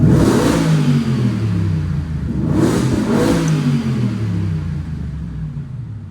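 A 700-horsepower V8 in a Ford Raptor R revving close by, the rumbling engine swelling and easing through a couple of throttle blips in a workshop, loud and steady with no talk.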